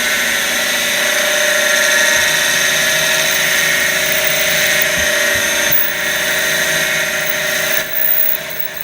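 A steady, loud mechanical whine of a small Model 6450 mini mill running continuously at about 1500 RPM, drilling stainless steel with a small bit, with a few brief dips and clunks near the end.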